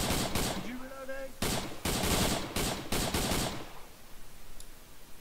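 Automatic gunfire in the ARMA 3 video game, several loud rapid bursts of shots in the first few seconds with short gaps, then the firing fades into a quieter background.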